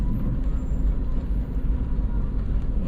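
Steady low road-traffic rumble, like a bus and cars moving along a street in Duhaney Park, Kingston, Jamaica, at school pick-up time. The drone is continuous and fairly close, with no talking.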